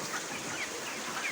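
Flock of 33-day-old broiler chickens in a poultry shed, a steady murmur of soft overlapping clucks and chirps at moderate level, with no voices.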